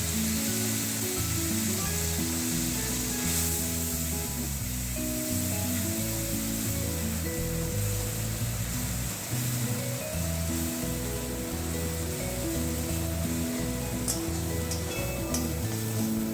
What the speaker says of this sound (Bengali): একটা মিডিয়াম সাইজের পেঁয়াজ, 1 কোয়া রসুন ও 1 ইঞ্চ আদা পেস্ট বানিয়ে সেটা সেই তেলে দিয়ে